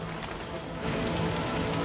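Heavy rain pours steadily in The Witcher Enhanced Edition, a dense hiss of drops that grows a little louder partway through.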